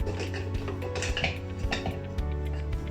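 A spoon clinks and scrapes around a bowl, mixing puff puff batter made with instant yeast, a quiet, close, steady run of knocks and stirring sounds.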